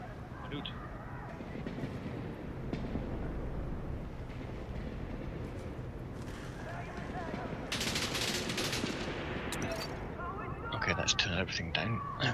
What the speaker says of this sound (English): I had this fucking turret going off in my ear.